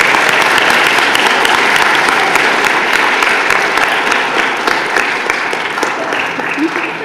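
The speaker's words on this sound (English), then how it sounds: "let's give them a round of applause" Audience applause at a school spelling bee, a dense, steady wash of clapping from many hands that fills the room, tapering slightly toward the end with no voices over it.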